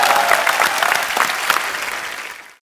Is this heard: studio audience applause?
yes